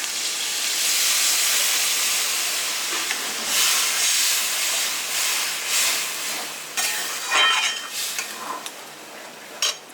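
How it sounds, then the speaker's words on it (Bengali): Water used to rinse a mixer jar is poured into a hot pan of cashew-paste aloo dum, giving a loud steady steam hiss with bursts of sizzle and a few metal clinks of utensils, no talking. "তো আমি এই যে মিক্সির বাটি ধোয়া জলটা দিয়ে দিচ্ছি।"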